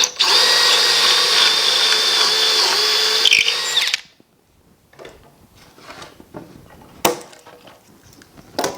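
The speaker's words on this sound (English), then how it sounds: "clamp the jig on, and go ahead and drill it" A power drill runs in one steady, loud burst for about four seconds, driving screws into a wooden jig for a large farmhouse wall clock, then stops and leaves quieter handling clatter with one sharp knock.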